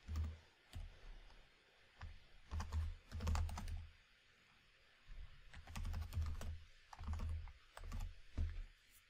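A name is typed on a computer keyboard in quiet, close bursts of rapid key clicks separated by short pauses.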